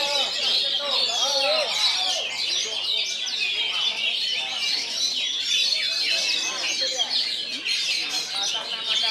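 An oriental magpie-robin (kacer) sings at a bird singing contest, a dense, continuous stream of high, rapid warbles and chirps from several birds at once. Voices talk steadily beneath the song.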